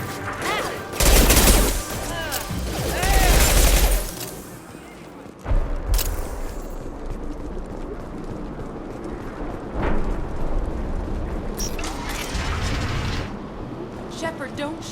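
Bursts of gunfire in Mass Effect Legendary Edition, heavy rapid volleys and booming shots in loud clusters, then sporadic scattered firing, with speech running over the combat.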